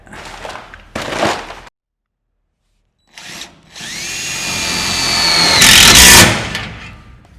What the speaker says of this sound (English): I only have to self-tap 1 hole